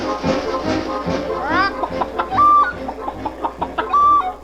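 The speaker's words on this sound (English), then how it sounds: "you'll meet Chiquita, the whistling chicken." A puppet-show chicken effect for Chiquita the whistling chicken: repeated close, bright clucks and short whistled tones in quick succession, with some speech-like sounds mixed in.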